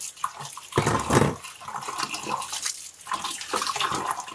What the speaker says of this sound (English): We dip them in water, just squeeze them nicely.